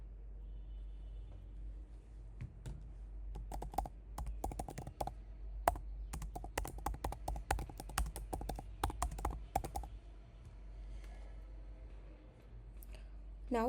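Rapid bursts of clicking keystrokes on a computer keyboard come in uneven flurries over a low steady hum, then trail off into quiet.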